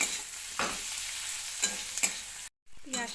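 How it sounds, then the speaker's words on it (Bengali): Chopped onions fry lightly in hot oil in a pan, made for a prawn and taro-stem dish, giving a steady close sizzle broken by several scraping stirs, with a brief silent gap near the end before the frying resumes. "পেঁয়াজটা আমার হালকা করে ভাজা হয়ে গেছে।"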